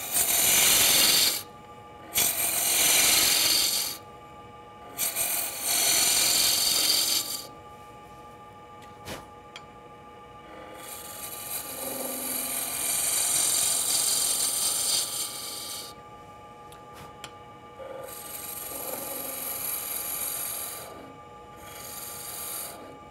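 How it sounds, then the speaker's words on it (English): A spindle roughing gouge cuts wood spinning on a lathe, shaping a bottle-shaped bottle opener, in loud rough bursts of scraping and shaving noise separated by short pauses over a steady motor hum, with no talk. "Now I'll use the spindle roughing gouge to remove most of the material and shape the neck"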